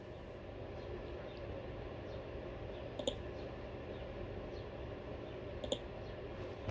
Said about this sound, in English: click the Arrange button